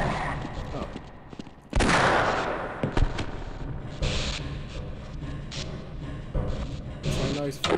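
Gunshots in Half-Life, with a loud blast followed by scattered shots and thuds over a noisy game background, while a voice talks through much of it.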